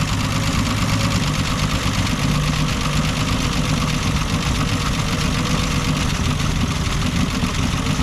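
A steady, loud Falcon car engine idling close by while nearly out of gas, with an even rumbling drone throughout and no voices.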